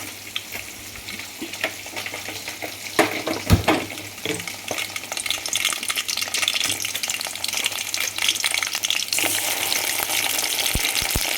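Crab meat sautés in oil in a kadai with a loud, dense sizzling hiss throughout, a couple of knocks and stirs early on, then the frying swells and stays steady.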